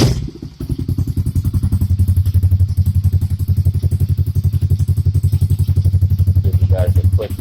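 A Honda CRF50 pit bike engine fires up after a short start attempt and settles into a loud, steady, rapid-pulsing run close by, with a few small rises in revs.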